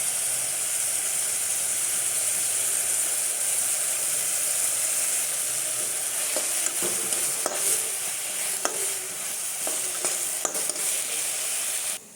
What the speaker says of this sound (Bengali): এই যে বন্ধুরা, সমস্ত মশলাগুলো ভালো মতো একটু কষিয়ে নিব।